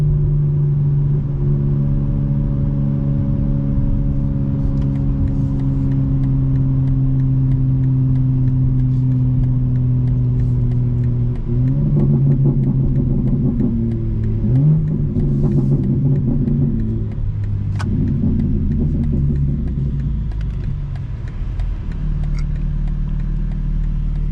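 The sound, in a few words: BMW M4 engine revving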